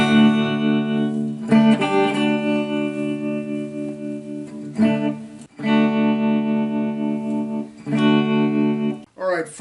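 Epiphone semi-hollow and hollow body electric guitars strumming and picking chords, loud and close with rich sustained tones in repeated phrases separated by short breaks, ending in a sharp muted scrape.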